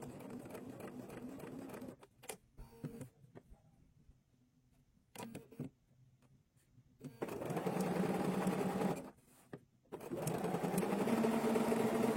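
A sewing machine stitches the edges of fabric into a closed loop, running in loud, steady whirring bursts broken by quiet pauses with faint handling sounds, close by and without talk.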